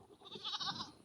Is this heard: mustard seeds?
no